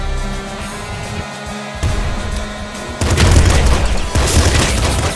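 Rapid bursts of in-game gunfire from Nuclear Throne, dense and booming over a constant music bed, growing louder and busier in the last two seconds.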